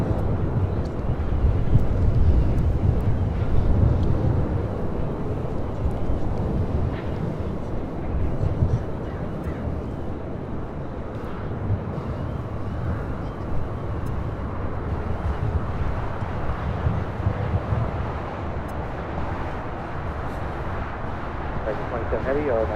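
An American Airlines Boeing 787-8 Dreamliner bound for Tokyo Haneda takes off from LAX, heard as a steady, broad jet roar that swells early and then holds at a distant rumble, with a commentator talking over it.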